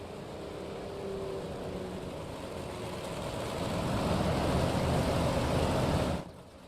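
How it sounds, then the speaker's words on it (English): A pace car on a clay race track revs its engine, a steady loud roar that builds to a higher pitch before cutting off abruptly near the end. "Now we'll hear the pace car wind it up"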